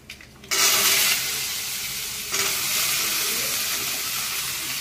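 Black cumin tempering with potatoes and bori dropped into hot oil sets off a sudden loud hiss of frying that holds steady, then swells again in a second burst, with no voices.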